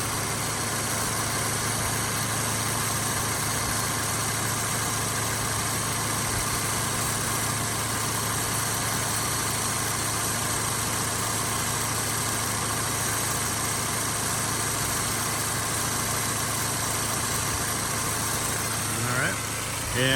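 A 2013 Subaru Impreza 2.0 idles in a steady, even drone, close and constant, with a faint shift near the end.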